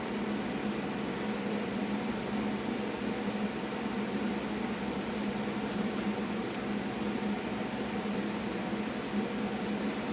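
A pumpkin pancake made from pancake batter, canned pumpkin and spice cooks in butter in a pan. It gives a steady, close sizzle and faint crackle that runs unbroken throughout.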